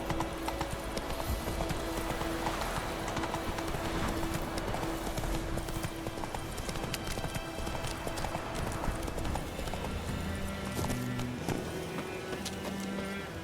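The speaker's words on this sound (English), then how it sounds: "Run, Roach." The horse Roach gallops in The Witcher 3, hooves clip-clopping in a fast, steady rhythm over continuous ambient game noise, with a snort or whinny near the end.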